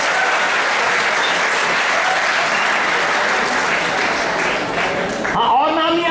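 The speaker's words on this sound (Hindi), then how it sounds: "अरे आपके लिए ताली बजा देंगे भाई हम" An audience at a college old students' association gathering claps steadily for about five seconds. The applause is loud and dense, and voices rise as it fades at the end.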